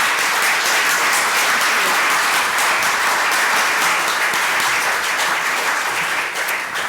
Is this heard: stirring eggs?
no